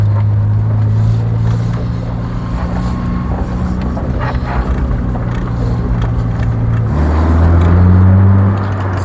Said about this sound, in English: Today I'm going to drive home my favourite of these two cars.